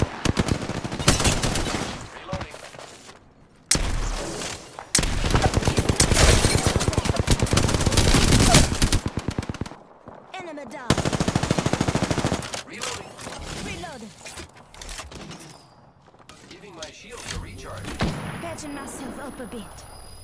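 Video game gunfire, long loud stretches of rapid automatic bursts broken by short pauses, with a voice talking in between.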